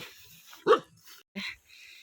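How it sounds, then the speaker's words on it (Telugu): A dog at a lone house among hills gives a single sharp bark followed by a softer second bark, close and clear with short quiet gaps between. "కుక్క."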